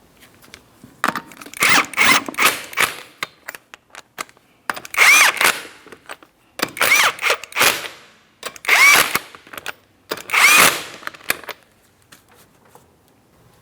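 A power drill or impact tool runs in four bursts of a few seconds each to snug up wheel lug nuts on a 2004-2008 Pontiac Grand Prix, with brief mechanical clicks between bursts and quiet gaps.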